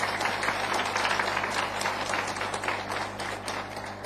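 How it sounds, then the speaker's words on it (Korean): A church congregation claps to welcome back a member who has returned to a New Zealand service after six months of training, a steady wash of many hands at moderate distance with no talk over it. "우리 박수 한번."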